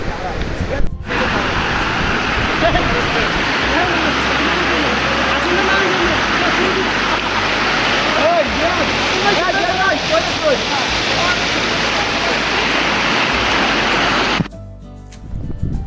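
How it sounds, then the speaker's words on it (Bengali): Rupsi waterfall at Sitakunda pours in a steady, loud broadband roar close by, with voices talking over the rushing water for most of the stretch before it cuts off near the end. "মানুষ এই ঝর্ণা উপভোগ করতেছে।"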